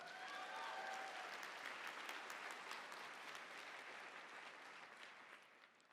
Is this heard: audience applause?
yes